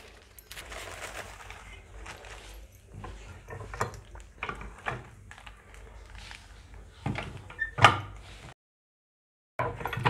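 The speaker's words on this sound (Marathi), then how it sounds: "आता आपण याचे पापड तयार करण्यासाठी एक पुरी यंत्राचा वापर करणार आहोत" A puri press clunks and creaks as it flattens a ball of rice papad dough between oiled plastic sheets, with scattered handling knocks, a sharp clack near the end, then a brief silence before more movement.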